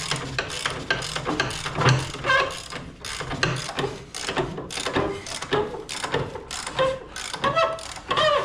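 Mechanical ratcheting while the track is tensioned on a Vermeer mini skid loader during a hydraulic motor and track replacement: dense, continuous clicking and gear-like rattling, close and fairly loud, with no talking.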